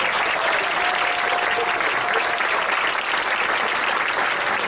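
An audience at an author talk in an independent bookstore applauds in a loud, sustained wave of many hands clapping, steady throughout with no talk.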